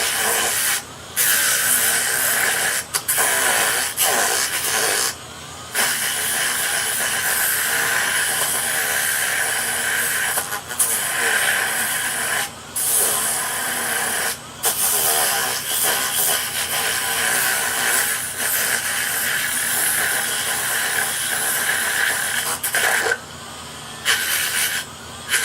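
A power sander grinds across epoxy coasters with 80 grit paper, a loud continuous close hiss with brief pauses as it lifts off, no voices.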